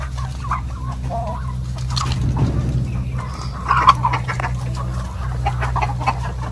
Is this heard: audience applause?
no